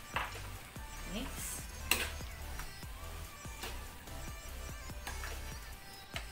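A spoon scrapes and clinks against a pot as chicken casserole mixture with cream of mushroom is stirred, in soft repeated strokes with occasional sharper knocks.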